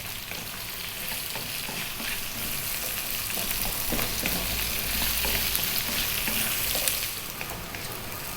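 Carrots frying with salt in a pan over medium heat for a vegan carrot curry, a steady close sizzle with the scrape and clatter of stirring running throughout, no voices.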